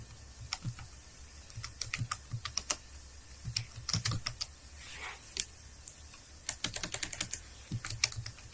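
Rapid, irregular keystrokes on a computer keyboard, clicking in short bursts with brief pauses, close and clear with no speech.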